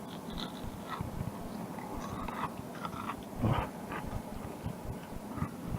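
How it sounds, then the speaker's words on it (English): Crisp crunching from biting into deep-fried breaded prawns served with sweet chili sauce and noodles, several close, sharp crunches and chewing sounds in a steady run. "I'll see if I can get you to hear this crunch."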